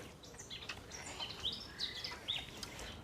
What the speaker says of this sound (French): À part les oiseaux, on n'entend qu'un bruit ici, Michel.